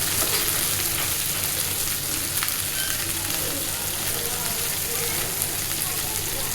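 Shrimp shells fry in a pan with a steady, loud crackling sizzle that stays constant and close throughout, with no pauses.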